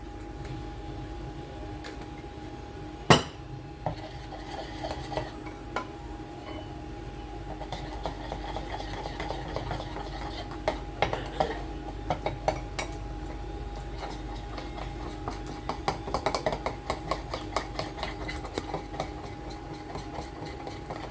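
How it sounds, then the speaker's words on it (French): A spoon stirs flour and parsley into tagine sauce in a metal pot, giving scattered light clinks and scrapes over a steady low hum. "Je vais mettre une cuillère à soupe de farine que je vais mélanger et je vais mettre du persil avec."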